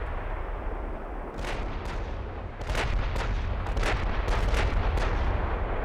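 Battleship main guns fire in the naval game Ultimate Admiral Dreadnoughts, a run of about eight muffled booming shots over a constant low rumble, moderately distant and spaced irregularly, without voices.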